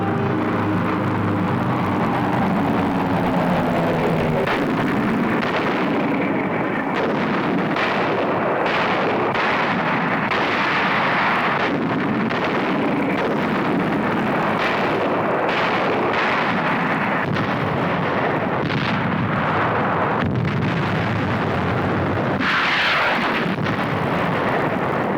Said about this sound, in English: By sea and by air, Iwo Jima is subjected to more than 70 days of bombardment